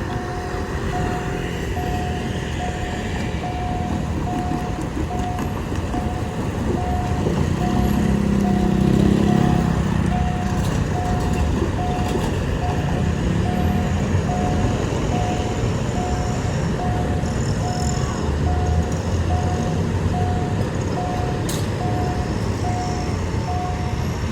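A Hitachi 4520 locomotive hauling the Thaksinarath express sleeper train from Bangkok to Hat Yai rumbles steadily past a level crossing at Yommarat for a long stretch, with a continuous crossing warning bell ringing over the noise.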